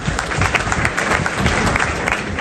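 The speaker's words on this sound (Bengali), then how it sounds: "এই ভাইদের জন্য কি একটা হাততালি দেওয়া যায় না?" A crowd claps for a group of brothers, giving a loud, continuous burst of applause with uneven hand claps close by, and no voices over it.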